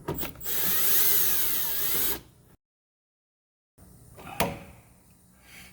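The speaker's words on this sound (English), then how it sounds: "we'll take out our two Phillips screws" A power screwdriver whirs for about two seconds, backing a Phillips screw out of an electric water heater's access cover. After a short gap, a sharp metallic clack and lighter handling noises follow, close by.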